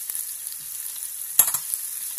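A salmon piperade frying in a pan gives off a soft, steady sizzle throughout, with one brief clatter in the middle and a few lighter knocks after it.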